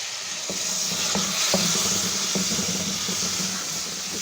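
Water splashed into hot oil and masala in a karahi for gola kabab, giving a steady close sizzle and steamy hiss with a few stirring knocks, no voices.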